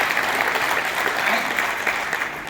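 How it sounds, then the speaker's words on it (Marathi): Dense, steady clapping from an audience at a community health gathering, fairly close and continuous, with a faint murmur of voices underneath. "जोरदार टाळ्या"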